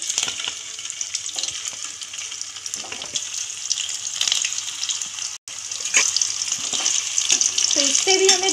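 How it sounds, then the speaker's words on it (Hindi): Chicken kofta balls fry in oil with a loud, continuous close-up sizzle that cuts out for a moment midway, then resumes with soft stirring and scraping underneath. "बाकियों को भी मैं इसी तरह फ्राई कर लूँगी"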